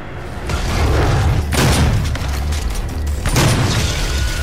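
Portal-shooting weapon fire in Doom (2016), with heavy booming blasts at a steady pace, loud and close, each one rolling into a low rumble.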